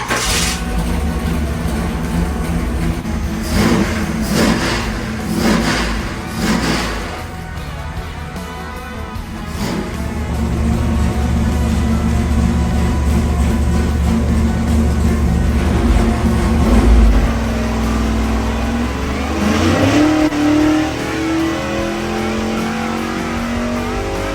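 A 406 small block Chevy V8 with a brand-new 750 carburetor, run for the first time at a machine shop, idles roughly and revs repeatedly in loud, close bursts that rise and fall over a steady rumble.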